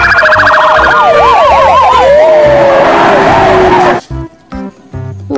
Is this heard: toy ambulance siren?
yes